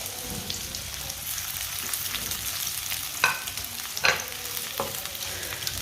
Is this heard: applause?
no